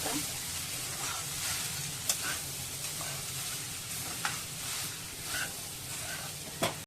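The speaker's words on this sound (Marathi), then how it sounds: "ते चांगलं परतून द्यायचं." Phodnicha bhaat, tempered rice, sautéed in a pan with a continuous hiss of frying and occasional sharp spoon clicks against the pan.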